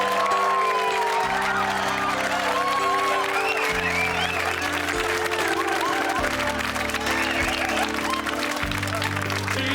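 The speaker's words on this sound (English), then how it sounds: "A big round of applause, once again," A TV studio audience on Vic Reeves Big Night Out applauds with dense, sustained clapping over steady music chords, the applause filling the whole stretch at an even, moderate loudness.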